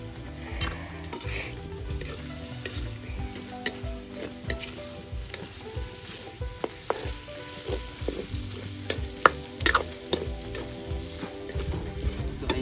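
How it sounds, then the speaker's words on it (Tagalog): Pork blood stew, dinuguan made Ilocano style, sizzles steadily in a pan while a utensil stirs and scrapes through it in irregular strokes, with occasional clinks against the metal. "Niluluto na ang kanyang blood."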